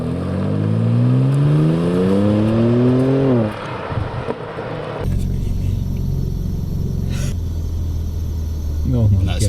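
A BMW M4 Competition accelerates, its engine note climbing steeply in pitch through a gear before dropping into a deep, loud, steady rumble with some wind noise and a brief voice.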